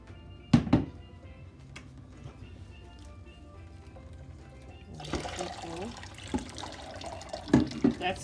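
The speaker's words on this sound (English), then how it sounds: "She's going to pour this into the sieve." Hot fresh raw goat's milk pours into a cheesecloth-lined sieve with a sudden splashing rush of liquid, sloshing and spattering close by, preceded by quieter kitchen sounds and a few clatters.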